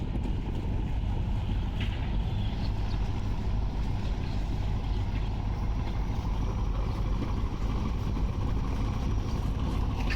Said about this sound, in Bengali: এমবি ফারহান 7 লঞ্চ ঝালকাঠির উদ্দেশ্যে চলে যাচ্ছে।